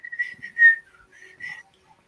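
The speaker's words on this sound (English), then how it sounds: "you can't whistle loud that way. You got to curl your tongue" A person whistles loudly with a curled tongue, giving a bright, piercing, shrill tone in several short bursts with small pitch slides, close to the mic and with no talking over it.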